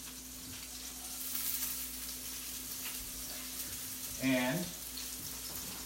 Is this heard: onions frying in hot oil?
yes